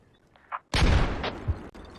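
A grenade blast in a video game lands as a sudden loud boom with a rumbling tail, preceded by a few faint game sounds and followed by a sharp crack.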